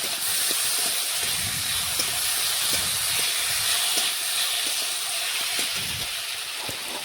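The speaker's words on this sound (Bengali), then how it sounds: "আবার একটু নাড়াচাড়া করে রান্না করে নিচ্ছি।" Shukto vegetables stirred and cooking in a pan give a steady, close sizzling hiss throughout, broken by faint light knocks of the spoon against the pan.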